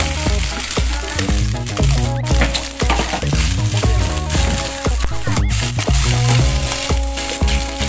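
Otak-otak fish cakes and sausage fry in a pan, making a continuous close sizzle with stirring scrapes over tonal background music.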